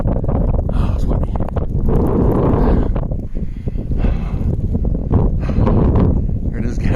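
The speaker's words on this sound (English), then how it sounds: "Oh, it's windy." Gusty wind buffets the microphone on an exposed, frost-encrusted summit during a night hike in a snowstorm, a steady rough roar rising and falling, with a person talking over it.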